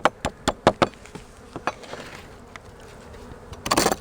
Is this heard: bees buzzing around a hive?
yes